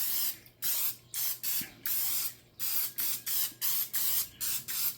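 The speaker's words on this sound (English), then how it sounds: "I'm going to spray it with some cooking oil" Cooking oil sprayed from a can onto a smoker's warming rack before smoked meatloaf goes on, heard as about a dozen close, loud, hissing bursts in a quick, uneven rhythm with short gaps between them.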